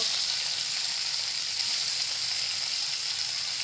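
Onion and tomato sizzle steadily while frying in a pan for a Marathi-style paneer masala, with an even, continuous hiss and crackle heard close up and no voices.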